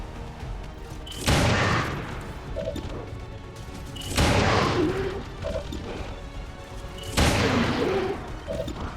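In the video game XCOM 2 (modded, War of the Chosen), three loud bursts of gunfire ring out a few seconds apart, each a sharp crack with a short trailing rumble.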